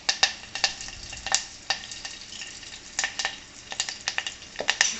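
Cumin, mustard seeds and curry leaves crackle in hot oil in a pan, giving sharp, irregular pops and spits in quick clusters, close and fairly loud with no talk.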